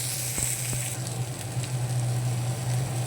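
Onion with ginger and garlic fries in a pan on medium heat until brown, giving a soft, steady sizzle with a low hum and a couple of brief clinks near the start.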